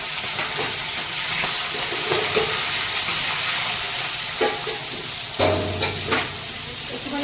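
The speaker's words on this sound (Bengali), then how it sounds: "তার আগে আমি কাঁকড়াগুলো ভেজে নেবো" Crabs fry with turmeric in a pan, giving a steady loud sizzle and hiss with intermittent stirring scrapes and clinks near the end.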